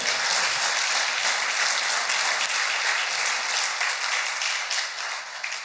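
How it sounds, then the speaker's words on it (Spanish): A church congregation at a men's congress applauds, a loud, continuous wash of clapping that holds steady and then eases slightly toward the end. "Denle un aplauso, hacer la gloria."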